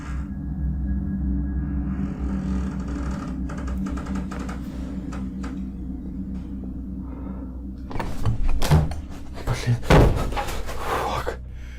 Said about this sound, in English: The door suddenly bursts open with force.